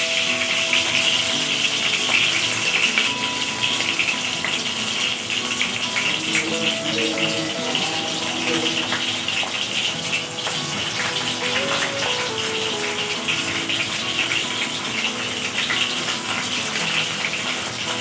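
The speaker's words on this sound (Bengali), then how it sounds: "এবার আমি আস্তে আস্তে চিংড়ি মাছগুলো হলুদ নুন মাখিয়ে রেখেছিলাম তেলের মধ্যে দিয়ে দিচ্ছি" Shrimp coated in turmeric and salt fry in hot oil, giving a loud, steady, hissing sizzle that carries on without a break from start to finish.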